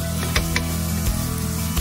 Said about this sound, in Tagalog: At syempre yung sibuyas, ayan, igisigisa lang natin, pampa-aromatics mga kabarangay.